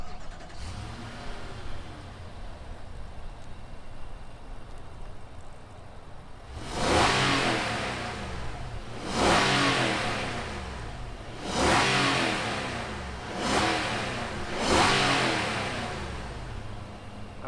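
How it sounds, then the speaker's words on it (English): A 2021 Nissan Armada SV's V8 idles low, then revs up four times in strong bursts, each surge climbing and falling back to a steady rumble, close and loud. "let's fire up this V8 and hear what kind of sound it makes"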